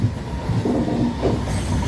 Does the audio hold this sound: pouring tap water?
no